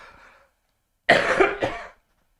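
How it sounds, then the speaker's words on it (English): A single harsh cough, close and loud, in a couple of quick bursts after a moment of faint background noise. "Okay, I'm gonna do my hourly cough."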